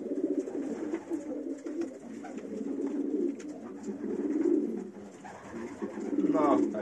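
A loft of homing pigeons, about 112 birds back from a race flight, coo in overlapping soft throaty calls that swell and fade, a continuous near chorus with a voice talking over it.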